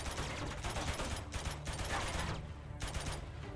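Sustained automatic AK rifle gunfire in the Uncharted video game, dense rattling bursts continuing almost without pause and briefly easing before resuming, loud and close in a busy firefight.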